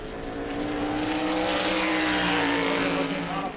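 James Blewett's Tour Type Modified race car, number 76, runs qualifying laps at New Smyrna Speedway, its engine a loud, close, sustained roar that climbs steadily in pitch as the car accelerates.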